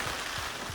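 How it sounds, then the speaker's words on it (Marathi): Rain pours down during a monsoon trek to Rajgad fort, a brief, dense, steady hiss of falling rain close by with no talking. "डायरेक्ट पाऊस आलेला आहे बघ."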